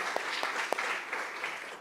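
Church congregation applauding first-time visitors, a brief steady patter of clapping with a few sharper claps.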